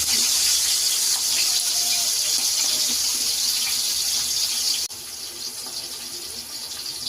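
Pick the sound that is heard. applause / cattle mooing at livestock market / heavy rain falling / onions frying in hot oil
onions frying in hot oil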